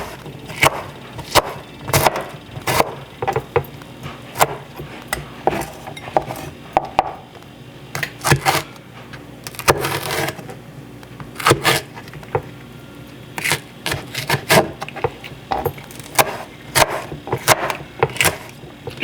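Knife chopping spinach into small pieces on a cutting board, a quick irregular series of sharp taps and clinks, close and moderately loud, with brief pauses between bursts.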